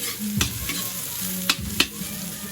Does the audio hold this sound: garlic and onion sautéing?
yes